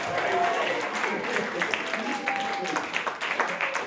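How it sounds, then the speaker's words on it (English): Audience applause at a hall show patters along as steady mid-level clapping under a person talking over it. "You're supposed to be clapping."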